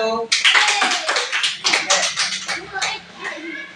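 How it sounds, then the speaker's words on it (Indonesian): A small group claps for a presenting team in a classroom, the sharp irregular claps close and fairly loud, thinning out toward the end. "Tepuk tangan untuk kelompok 1."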